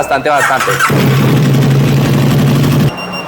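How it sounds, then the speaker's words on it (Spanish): A KTM 1290R motorcycle engine idles steadily while warming up, a loud, continuous close-up drone with a brief rev at the start, dropping off near the end. "mientras calienta la motocicleta"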